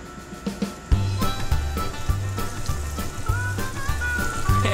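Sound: flour-dredged chicken frying in lard

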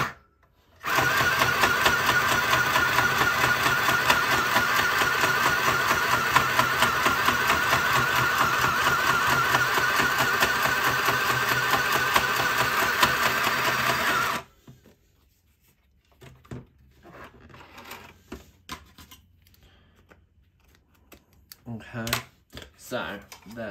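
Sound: sewing machine stitching paper for a card

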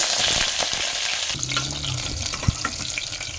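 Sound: mustard seeds, onion and curry leaves frying in oil

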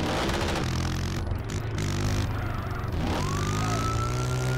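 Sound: police car siren in GTA San Andreas video game

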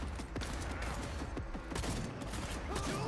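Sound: shotgun firing in Cyberpunk video game

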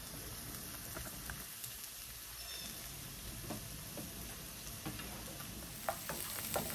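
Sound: food sautéing in a pan

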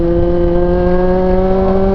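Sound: vehicle engine throttling up a steep curving road

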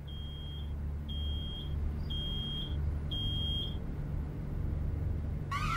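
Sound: alarm beeping in Road 96 video game

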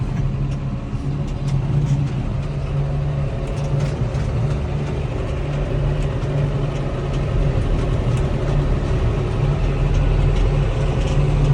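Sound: John Deere tractor engine idling

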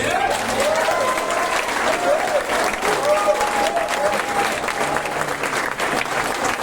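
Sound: audience applause

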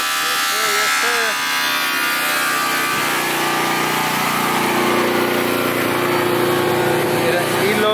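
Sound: power polisher polishing a truck

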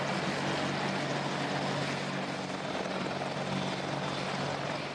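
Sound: military attack helicopter

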